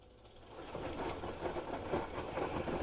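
A Frigidaire Affinity front-load clothes washer motor reverses direction, giving a steady mechanical whirring and rumbling hum with rhythmic surges as the drum turns, fairly close and without talk.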